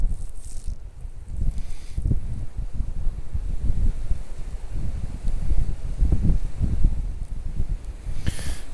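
Strong wind buffets the microphone near a DJI Mavic 2 Pro drone, a continuous low rumbling roar with gusty surges and no voices.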